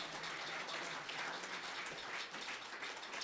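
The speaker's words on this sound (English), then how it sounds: "and then I got claps out of that" Steady applause from an audience gathered at a celebration of life, a dense wash of many hands clapping that fills the room evenly throughout without a break.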